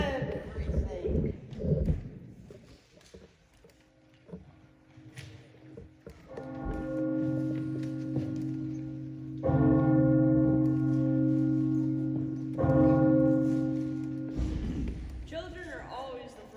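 A church bell rings out for a village lottery gathering in a one-act stage play, sustained tolling strikes with long ringing overtones after a brief spoken line, repeating several times.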